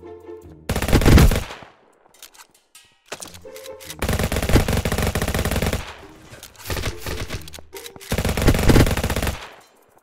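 Rapid automatic gunfire from the mobile GTA-style game Vice Online comes in three long, loud bursts separated by short gaps, each a dense, harsh rattle.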